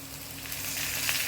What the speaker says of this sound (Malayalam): വെളുത്തുള്ളി അരിഞ്ഞത് ഇട്ട് എല്ലാം കൂടെ ചേർത്തൊന്ന് വഴറ്റാം.